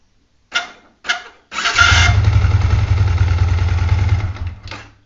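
A Yamaha Vixion motorcycle's electric starter whirs in two short bursts, then the engine catches and runs loud and close with a steady low drone before cutting off, ending with another brief starter whir.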